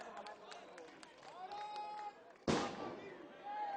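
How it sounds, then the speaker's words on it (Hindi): Firecrackers set off at a BJP office-bearer ceremony in Bhopal, a loud crackling burst ringing out amid crowd noise and a voice over a public address system. "ये पटाखे जो मेरे मित्र अभी उत्साह में फोड़ रहे हैं"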